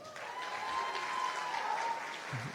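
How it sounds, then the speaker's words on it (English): Steady applause from an audience at a Tamil Community Centre gathering about a community project, an even wash of clapping at moderate level with no voices. "Can I get a round of applause?"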